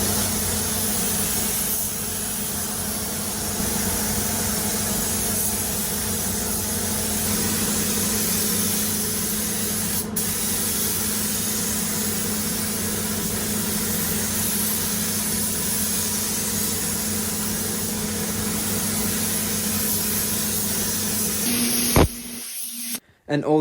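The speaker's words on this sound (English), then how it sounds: "I was in the booth for over an hour spray painting my car" Spray gun applying a coat of paint to a Ford Escort MK5 inside a spray booth, a long, steady hiss over the booth's constant fan drone, cutting off abruptly near the end.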